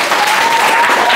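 A classroom audience claps together in a dense, steady burst of applause, loud and close, filling the short moment with no pauses.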